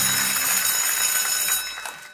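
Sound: quiz show bell ringing to end the round

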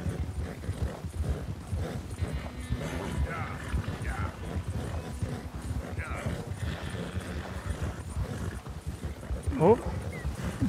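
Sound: Arabian horse galloping in a race, from the video game

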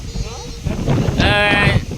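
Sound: strong wind

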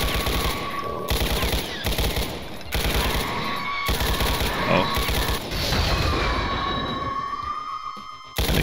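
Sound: assault rifle gunfire in The Ultimate Doom video game

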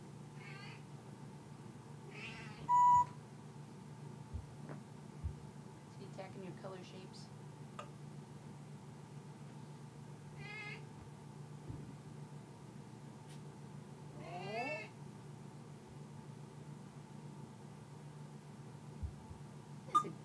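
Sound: African grey parrot imitating cat meow

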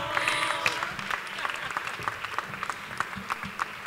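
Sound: audience applause at flamenco award gala

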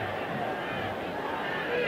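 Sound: football crowd cheering at 1966 World Cup match

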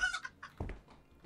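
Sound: chicken clucking in Hotel Renovator video game

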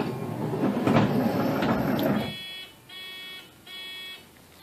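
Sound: Honda Odyssey power sliding door beeping while closing

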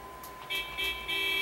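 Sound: car horn honking

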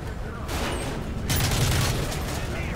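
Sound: gunfire in video game Call of Duty Modern Warfare 3

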